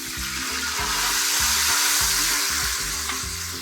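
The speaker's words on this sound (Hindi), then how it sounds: "इसको भी हम साथ ही गोल्डन होने तक भूनेंगे" Cinnamon sticks and cloves frying in hot oil in a pan, a loud, steady sizzle with a soft rhythmic stirring pulse underneath.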